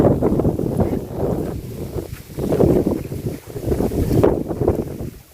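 Gusty wind buffets the microphone outdoors in surging waves of rushing noise, rising and easing several times without any talk.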